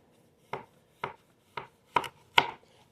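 A knife chops through potatoes with the skin on, five crisp cuts at roughly half-second intervals, the last two landing louder and sharper, close and isolated against quiet.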